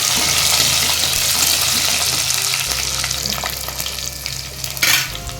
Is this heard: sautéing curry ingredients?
yes